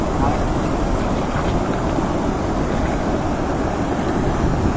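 Steady, loud wind buffeting the microphone beside a river, a continuous low roar that lasts the whole stretch with no clear pauses.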